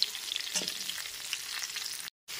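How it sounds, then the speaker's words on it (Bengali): Pieces of pointed gourd, pumpkin and potato frying in a pan over a medium gas flame, a steady close sizzle with a couple of scraping stirs before a brief cut to silence. "গ্যাসের ফ্লেমটা মিডিয়ামে রেখে আলু, কুমড়ো আর পটলটাকে একটু সময় নিয়ে ভেজে নেব"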